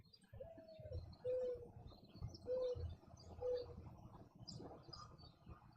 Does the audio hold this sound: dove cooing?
yes